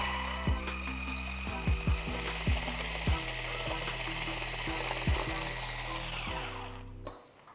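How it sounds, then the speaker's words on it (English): An electric mixer whirs steadily while beating room-temperature egg whites until foamy, with repeated sharp knocks of the beaters against the bowl, close and fairly quiet, cutting off near the end. "we're going to beat them until they start to foam up and be white"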